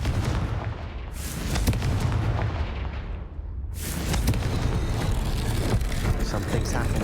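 Blasting curse explosion in Hogwarts Legacy: a loud burst at the start, then a second big booming blast near four seconds followed by sustained rumbling, crackling debris and game noise, with broadband energy throughout.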